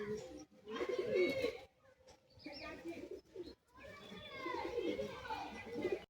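Pigeons offered at a bird sale coo repeatedly in soft, rolling calls, close by, while people talk over and between them.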